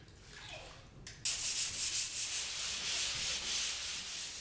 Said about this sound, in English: surprised at how well the wet sanding worked on the drywall